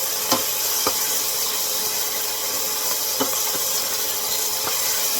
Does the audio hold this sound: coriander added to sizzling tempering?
yes